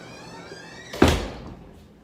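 A door swings open to let a cat in during a home yoga session, one close sliding thud and scrape in a quiet room.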